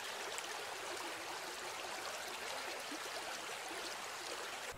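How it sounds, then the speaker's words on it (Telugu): Steady rushing of a forest stream flowing through a wooded gorge at Rapur Siddeswara Kona, a continuous broadband wash of water heard close and unbroken, with no voices. "మెట్లు దిగి కొద్ది దూరం పోగానే మనకు కోనలోని పారే సెలయేరు కనిపిస్తుంది."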